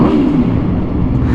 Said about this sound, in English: Exhaust sounds throaty, refined.